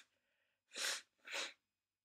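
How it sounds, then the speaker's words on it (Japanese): Two sneezes in quick succession from one person, close and loud against a quiet background, preceded by faint breathing. "やばい、ちょっとくしゃみ出ちゃ"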